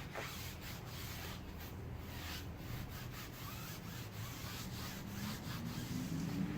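IGL tyre dressing is rubbed into a car tire by hand, producing a steady, faint, continuous scrubbing and rubbing sound with soft rhythmic strokes and no talking.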